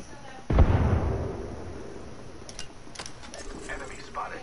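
A grenade explodes in a video game: one heavy, booming blast that rumbles and fades over a couple of seconds, followed by light clicks and small game sounds.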